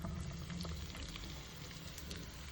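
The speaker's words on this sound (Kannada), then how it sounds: "ಈಗ ಅದಕ್ಕೆ ಕಟ್ ಮಾಡ್ಕೊಂಡಿರೋ ಈರುಳ್ಳಿ ಹಾಕ್ತಾ ಇದ್ದೀನಿ" Chopped onions dropped into hot oil in a pan, frying for an egg puff filling: a steady, dense crackling sizzle with scattered pops, close and continuous throughout with no talking.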